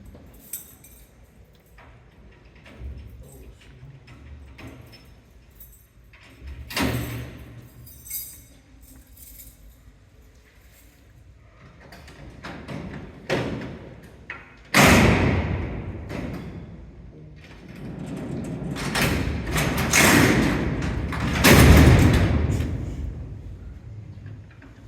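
Heavy steel cell doors at Alcatraz prison roll open with clanks, thuds and metallic rumbling, building to loud, resonant bangs in the cellblock after quieter scattered knocks.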